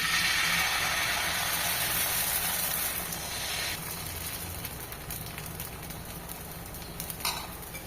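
Rice and chana dal batter sizzles on an oiled hot tawa, a dense, close hiss that is strongest at first and then settles into a softer, steady crackle with faint clinks.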